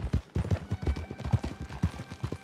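A small horse's hooves clip-clop in a steady, rapid walking rhythm in a video game, with close, loud, distinct thuds that repeat evenly and carry no talk.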